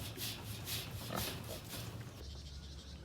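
Newly castrated piglets in a breeding pen on a farm, a steady chorus of squeals and grunts filling the pen at close range, broken by a few louder cries, with no talking.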